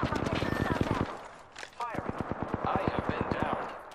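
Rapid bursts of automatic gunfire in the Apex Legends battle royale game, sharp repeated shots in two volleys separated by a short pause, loud and close, with game sounds between.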